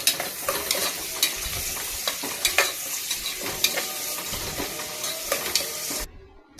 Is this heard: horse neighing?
no